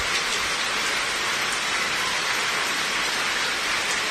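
Heavy rain pours down in Abohar as a steady, dense hiss that stays loud and unbroken throughout, with no voices.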